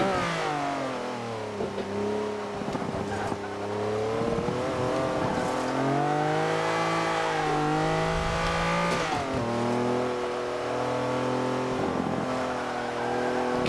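A 1980s supercar, Lamborghini Countach or Ferrari F40, revs hard while gearing down, the engine note swooping up and down with repeated blips and throttle surges, loud and continuous throughout.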